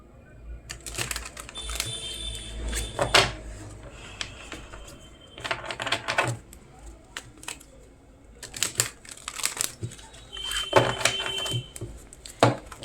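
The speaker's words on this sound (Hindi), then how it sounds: "कार्ड शफल करते हैं आपके लिए।" Tarot cards being shuffled by hand during a reading, giving crisp papery riffles and snaps in several bursts with short pauses between them, close and fairly clear over a quiet background.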